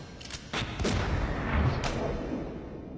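Gunshots from the film The Matrix: a few sharp cracks early on, then a sustained rumbling burst of gunfire and booms that fills the rest of the moment, fairly loud with no speech.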